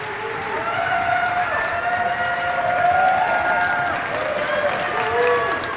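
A large concert crowd at Video Games Live in Saskatoon, Canada, applauding and cheering through an encore, a steady, loud roar of clapping with whistles and shouts threaded through it.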